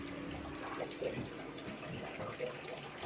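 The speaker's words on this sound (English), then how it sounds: "Little fountains around here. We're going through the water section." Small water fountains splashing steadily in the water section of a zoo theme park's adventure maze, a continuous moderate trickle and spatter with no talking.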